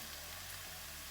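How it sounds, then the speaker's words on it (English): Breakfast hash vegetables frying in a pan, a continuous close sizzle and crackle, brief and steady, no voices. "these have been frying for just a few minutes"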